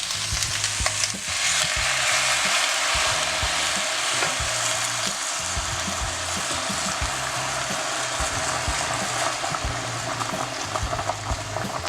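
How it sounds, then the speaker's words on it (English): Water from a kettle poured over a chicken carcass in a pot for stock, a steady hissing, bubbling rush that runs without pause, close and fairly loud. "Water from the kettle."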